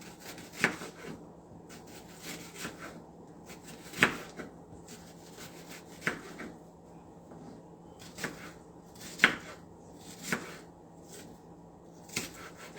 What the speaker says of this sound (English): So cut your onions however you want it.